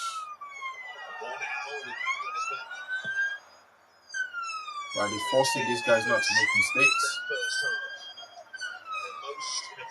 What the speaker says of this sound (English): No windows open, you can hear the ambulance or the police car.